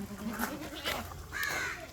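A goat offered for sale, a first-time mother with her female kid, bleats a couple of times, faint and at a distance, against quiet outdoor background noise.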